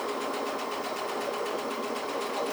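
Sewing machine stitching with a circular attachment foot, a fast, even mechanical whir with rapid needle ticks, steady and close throughout.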